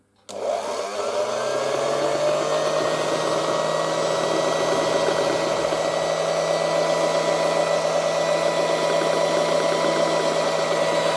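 Moulinex Type 116•2•02 electric hand whisk on low speed whipping Angel Delight, a steady close motor whine that starts up abruptly and holds an even drone throughout.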